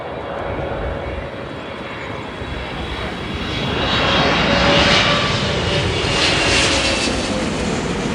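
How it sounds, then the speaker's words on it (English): An 18-year-old Emirates Boeing 777, registration A6-EWA, drones loudly with its jet engines, a steady roar that swells midway as the aircraft passes, with no talk. "This one I believe is an 18-year-old 777."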